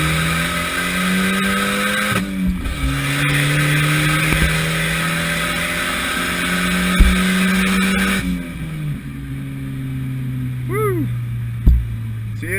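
A Volvo 740 Turbo drift car on 15 pounds of boost pulls hard in second gear, its engine drone climbing steadily and loud close up, then easing off with a short whine and a couple of sharp clunks.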